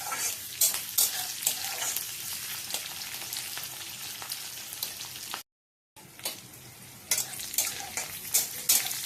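Curry leaves and onions fry in hot oil for sambar, giving a close, steady sizzle broken by sharp stirring scrapes and clicks, with one brief silent gap midway.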